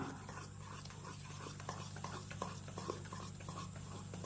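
Mango cake batter made with wheat flour being stirred with refined oil in a bowl, a steady soft scraping and mixing at close range, with faint clinks of the utensil against the bowl and no talk.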